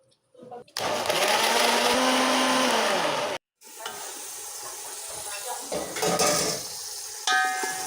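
A blender motor whirs loudly for a few seconds, cuts off briefly, then runs again with a rougher, churning sound as it purées tomatoes and tomato paste.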